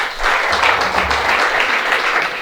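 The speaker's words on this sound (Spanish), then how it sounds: "yo le aplaudo ya desde aquí" Steady applause from an audience at an academy conference, dense clapping filling the whole stretch at even loudness, with no pauses.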